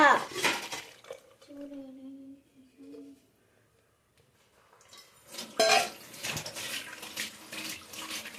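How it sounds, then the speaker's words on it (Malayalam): Metal utensils clatter briefly, then a quiet lull follows before water is poured into a strainer in a close, rushing stream that continues to the end. "ഈ വെള്ളം ഒഴിക്കുക."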